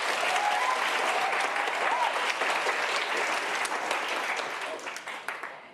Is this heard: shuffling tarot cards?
no